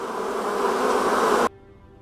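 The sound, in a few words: honeybees buzzing in the hive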